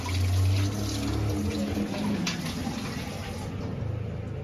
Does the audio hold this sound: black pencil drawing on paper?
no